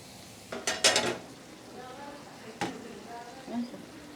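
A lid clatters onto a pot of ridge gourd and potato curry simmering on a low gas flame, a couple of quick metallic knocks followed by a lone later clink against a quiet kitchen background.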